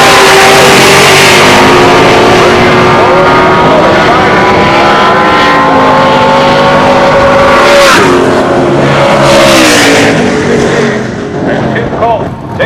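Race cars launching at the start of an OSCA race weekend, including an '89 Mustang and an '89 Stag, loud multi-engine roar with rising, shifting revs and tonal engine harmonics, close and continuous, fading slightly at the end.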